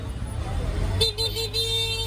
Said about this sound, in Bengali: গরু হাটের জন্য রাস্তাঘাট পুরো জাম লেগে গেছে